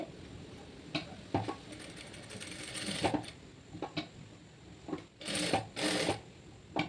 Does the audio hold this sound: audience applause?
no